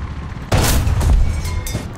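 A single loud, close tank cannon shot from a Japanese Chi-Ha tank fired at the globe on a War Thunder ground battle map, a sharp boom followed by a rolling decay with a second faint crack near the end.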